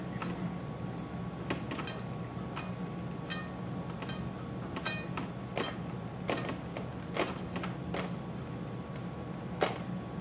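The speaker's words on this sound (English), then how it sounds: "The sound you're hearing is plate that's underneath my plate." Glass plate being pressed down during napkin decoupage, giving faint, scattered clicks and light ticks as it shifts against another plate beneath, over a quiet hiss with no talking.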